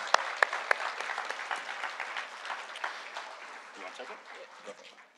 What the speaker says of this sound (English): So now you can go ahead and give a whole bunch of round of applause.